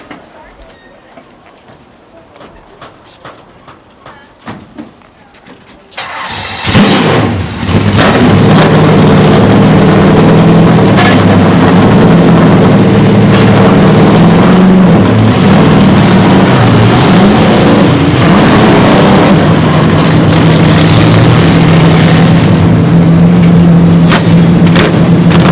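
NASCAR race car engines rumble in, then erupt into a loud, sustained, roaring drone that rises and holds for nearly twenty seconds, with brief talk audible before the full roar.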